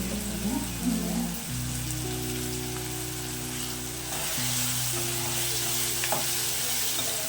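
Tomatoes with salt sizzle and fry steadily in a pan, a continuous close crackling hiss with a low hum beneath it and an occasional stir.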